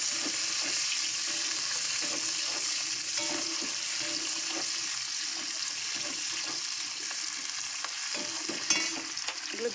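Cubed onions with slit green chilli frying in a pan, a dense continuous hiss of sizzling oil with faint scraping stirs underneath, close and steady with no voices.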